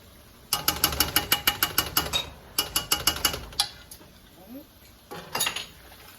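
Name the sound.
stirring mustard into melted butter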